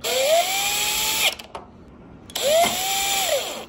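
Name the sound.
power drill driving screws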